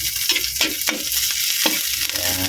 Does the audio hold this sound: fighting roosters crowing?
no